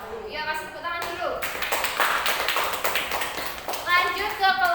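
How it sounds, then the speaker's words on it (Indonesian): A classroom audience breaks into a few seconds of dense applause, with voices heard briefly before and after the clapping. "Ya, kasih tepuk tangan dulu."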